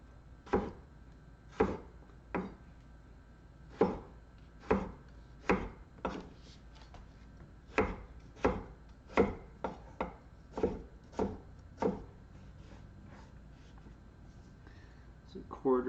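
A knife chopping vegetables on a cutting board into quarter- to half-inch strips for Spanish tortilla, with about fifteen crisp, evenly spaced chops, close and clear over faint background noise.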